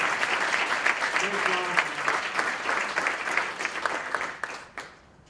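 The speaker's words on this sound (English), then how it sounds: "let's give a round of applause to all our students and all the various disciplines" Applause from the audience at a school district board meeting, steady clapping with a faint voice underneath, tapering off near the end.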